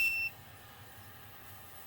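A Vevor 6L ultrasonic cleaner gives a single loud, high, piercing electronic beep at the very start, then drops to a faint, steady background hum.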